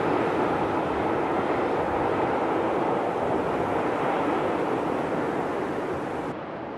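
A Swiss mountain train climbs a pass on zigzag tracks, a steady broadband rumble and rush of rolling stock that holds level throughout before dropping off slightly at the end, with no voices.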